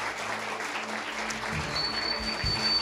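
A congregation applauds the Lord during a Portuguese church service: soft, steady, continuous clapping, fairly quiet and even throughout.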